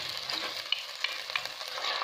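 Onions frying in ghee in a pan, a steady soft sizzle with a few small pops and crackles throughout, close by and with no voices.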